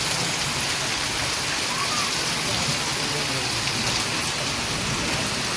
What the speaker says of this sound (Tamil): பயங்கரமாக மழை பெய்ய ஆரம்பிச்சிச்சு